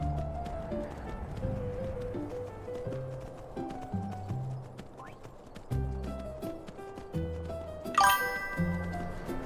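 Horse hooves clip-clop in Skyrim, a steady rhythmic trot carried under game music with a brief bright chime near the end.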